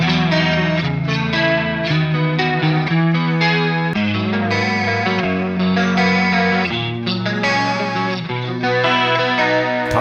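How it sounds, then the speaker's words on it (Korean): Close, loud overdriven guitar from an Enya Inspire smart guitar on its Texas overdrive preset, with a steady strummed and picked riff that keeps moving through chord changes and has a slight chorus-like shimmer, with no voices. "다음 텍사스라는 소리 들어보겠습니다."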